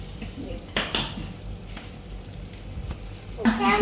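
Pans and dishes clatter and clink in a few sharp bursts as chicken goes into a baking dish, close and fairly faint, with quiet kitchen sounds between.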